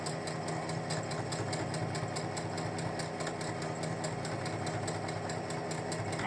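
A sewing machine stitches steadily along the folded edge of a fabric book cover, giving a fast, even mechanical chatter that holds a constant rhythm throughout at close range, with no talking.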